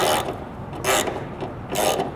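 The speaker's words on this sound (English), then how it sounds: "we gotta loosen this one. I need to, need this. And this, we just gotta loosen this nut." A ratchet wrench loosens a nut on a 1967 Barracuda, with three bursts of rapid clicking, close and loud, separated by short pauses as the handle swings back, and no voices.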